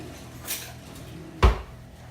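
A tablespoon is taken from a kitchen drawer, heard as a faint rattle followed by a single sharp, close knock of the drawer or utensil.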